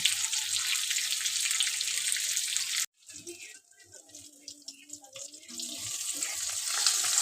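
Water is poured into a spiced batter in a hot cooking pan, a steady rushing hiss that cuts off abruptly, followed by bubbling, soft clinks and a renewed sizzle.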